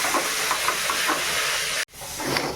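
Spice paste of chili powder, green chili and turmeric sizzles loudly in a pan as water is added, a strong steady hiss that cuts out for an instant and then resumes.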